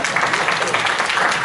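An indoor audience at a talk claps together in a steady, dense wash of applause, loud and close throughout.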